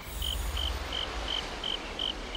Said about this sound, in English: Fucking crickets.